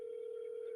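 A steady telephone dial tone hums for under a second on a live radio call, one continuous even pitch, fairly faint and alone.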